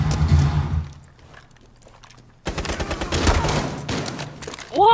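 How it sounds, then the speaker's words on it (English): Gunfire in Tom Clancy's Rainbow Six Siege rattles in bursts, a loud volley at the start, quieter distant shots in the middle, then a heavy renewed barrage, with game effects closing the moment. "Oh, he's shooting me, but I can't shoot him."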